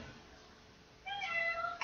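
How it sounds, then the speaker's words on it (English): A house cat meowing to be let in, a short, fairly faint call rising after a quiet moment indoors. "Hold on, I gotta let my cat in."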